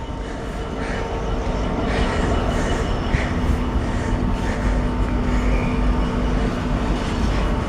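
A Class 66 diesel locomotive departs Peterborough station with a steady, heavy rumble and drone that holds at a constant level throughout, with no voices.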